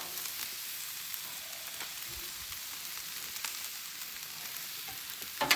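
Food frying on a Blackstone griddle in canola oil and butter, a steady soft crackling sizzle with scattered small pops, moderately quiet and heard alone.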